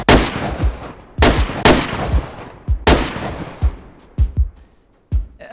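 Sniper rifle shots in the DayZ video game, several loud cracks with long decaying tails, joined by fainter distant reports at irregular intervals.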